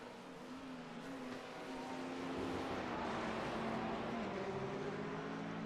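A pack of race cars pulls away at the start of an iRacing race at Oulton, engines droning and rising steadily in pitch, heard faintly and at a distance with no voices over them.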